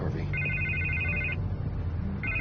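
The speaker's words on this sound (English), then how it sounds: "I can't get the phone to stop ringing." Telephone rings with two electronic trills, the first long and the second starting near the end. Low background hum runs underneath and there is no speech.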